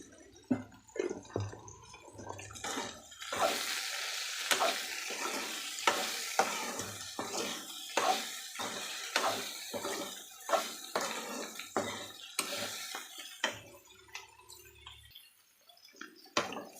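Okra fries in a pan for vendakkai kara kulambu, a steady sizzle under repeated rhythmic stirring scrapes and clanks, close and fairly loud throughout, with no one speaking.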